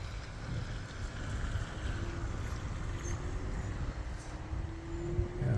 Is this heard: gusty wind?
yes